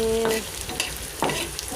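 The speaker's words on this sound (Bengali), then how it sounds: "এই যে তেল দিয়ে দিলাম, পেঁয়াজ আর একটু রসুন কুচি, সাথে কাঁচামরিচ দিয়ে দিলাম।" Chopped onion, garlic and green chili hit hot oil in a pan with a close, steady sizzle and a few stirring scrapes, no voices, all within a short burst.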